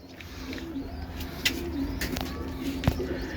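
Pigeons cooing close by in a coop or loft, soft repeated low coos over a steady background hum, with a couple of brief sharp knocks or flutters.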